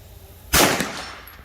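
A single 9mm carbine shot fired offhand at a target 100 yards away outdoors: one sharp, loud crack with a short decaying tail, no talk.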